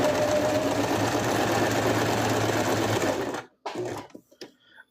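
Sewing machine stitching plush fabric in a fast continuous run for about three seconds, then stopping abruptly, followed by a few faint handling clicks and short bursts.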